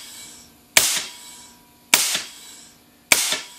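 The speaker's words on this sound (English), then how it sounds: "That's just shooting air right now." A solenoid-valve air cannon with a 6mm barrel, fed by shop air at 125 PSI, fires three loud, sharp blasts of compressed air about a second apart, each with a short hissing tail.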